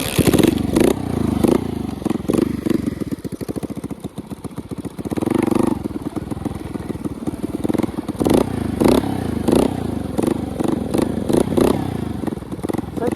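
A homemade bicycle fitted with a moped engine revs hard and close, its loud rattling two-stroke buzz rising and falling in repeated throttle blips, with no voices.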